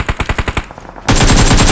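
Rapid automatic gunfire from the mobile battle-royale game Battlegrounds Mobile: a string of about ten evenly spaced shots, then a sudden dense, loud continuous burst of overlapping fire filling the last half.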